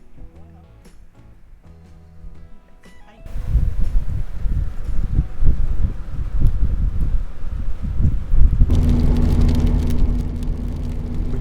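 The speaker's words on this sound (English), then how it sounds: "Have a look at the air coming out of here." Air rushing out of a hole in the ground at a roadside stop between Dundas and Ceduna, a loud steady gusty roar that starts abruptly after a quieter opening with faint musical tones.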